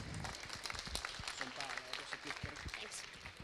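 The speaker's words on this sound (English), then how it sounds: "So can we get a round of applause for Nea?" A small audience at a hackathon award ceremony claps briefly, a light, scattered patter of applause that overlaps with speech.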